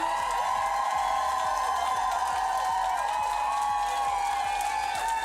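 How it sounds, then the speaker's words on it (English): Audience applause and cheering for a family at a community event, a dense continuous wash of clapping with whoops, loud and steady throughout. "Can I have a huge round of applause for this incredible, incredible family right here?"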